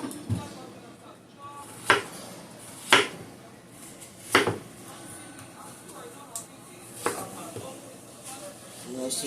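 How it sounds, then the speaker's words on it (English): Inch-thick sweet potato pieces, partly cooked and peeled for candied yams, are set down in a pan, giving a few sharp, close knocks and clatters spaced irregularly over a low background hum. "I'll just layer them in the pan here"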